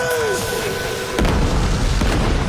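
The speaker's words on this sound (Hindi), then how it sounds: "महमद अपनी सारी तोपों से शहर पर हमले किया करता था।" Cannon fire during a city siege, heard as a deep booming blast that lands abruptly mid-clip and rumbles on, following a descending whistling tone.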